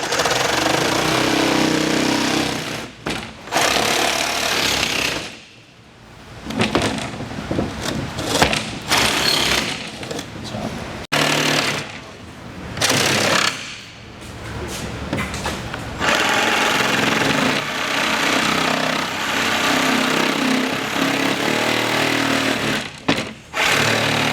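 A power saw rips along the edges of a plywood panel laid over a frame, running in long loud buzzing passes with brief pauses between cuts.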